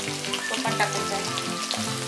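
Finely chopped onion fries in oil with curry leaves for sambar, giving a dense, even crackling sizzle that sounds close and steady for a brief moment.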